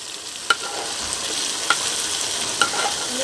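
Tomatoes frying in ghee for biryani, giving a steady close sizzle with a few soft clicks of a spoon stirring the pan, and no talking.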